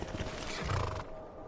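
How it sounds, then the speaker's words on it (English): A horse whinnies once in a video game, fairly clear but not close, over a quiet background before the sound cuts off. "I hear my horse."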